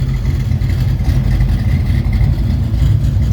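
A 1969 Plymouth Road Runner's 383 V8 with a Holley 850 carburetor and 3-inch Flowmaster exhaust thumps steadily at idle, a loud, deep continuous rumble heard close up with no talk over it.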